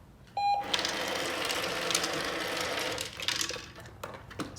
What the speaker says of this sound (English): As soon as he looks at me, I'm going to beep him.